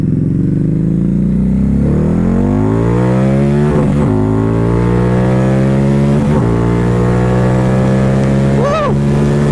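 A Harley-Davidson Night Rod Special V-Rod motorcycle accelerates hard, its engine note climbing steadily through several gear changes with brief dips between shifts, loud and close throughout.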